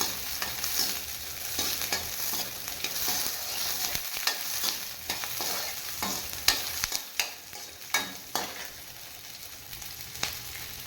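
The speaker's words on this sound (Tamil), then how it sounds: "வெங்காயம் கடைசியாக போட்டு வெங்காயத்தை வதக்கி தனியாக எடுத்து வச்சுக்கலாம்" Onions sauté in a pan for an elephant foot yam sambar, with a constant hiss of frying oil and repeated sharp scrapes and taps as a spoon stirs them, close and clear with no talking.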